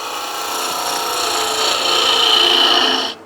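A spindle roughing gouge takes a peeling cut on a spinning wood lathe, making a steady, close hiss of shaving wood that swells slightly midway and stops abruptly near the end.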